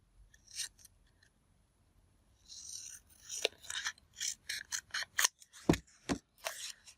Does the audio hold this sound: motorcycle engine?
no